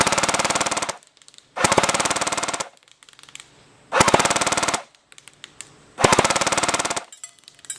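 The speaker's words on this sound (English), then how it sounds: "we're going to start shooting, and you'll see how it's hitting" A Tokyo Marui TM2H airsoft gun fires four sustained full-auto bursts of about a second each, loud and close, with short pauses of faint clicks between them.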